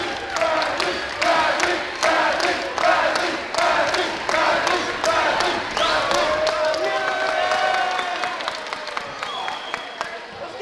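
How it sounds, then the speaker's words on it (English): A basketball game crowd chants a player's name in loud, rhythmic bursts that repeat steadily and fill the arena, with a commentator talking underneath. "the crowd, you heard him chanting Bradley, his first minutes off the bench."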